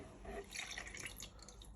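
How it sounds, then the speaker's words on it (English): Milk is poured into Greek yogurt for a rocky road cake batter, a short soft liquid trickle and splash that is faint and close. "you're going to pour that into your Greek yogurt"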